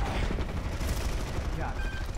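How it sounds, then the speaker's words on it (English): Dense, continuous gunfire and explosions in a squad-based multiplayer shooter during an assault on a stronghold, a loud wall of overlapping shots and rumbling blasts with no clear gaps. "They're shooting on spawn."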